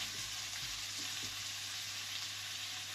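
Onion frying in a pan until caramelized, a steady, soft sizzle with faint stirring scrapes and no talk.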